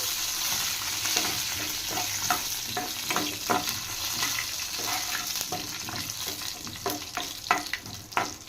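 A tempering of crushed garlic and dried chilies fries in oil in a pan, a continuous close sizzle with scattered crackles and a few stirring scrapes.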